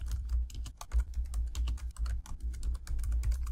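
Rapid, uneven keystrokes on a computer keyboard during coding of HTML and JavaScript, a close and steady stream of clicks with no talking.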